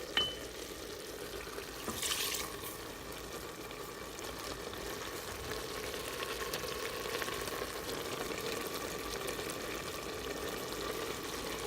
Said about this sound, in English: To this, we're going to add some brandy.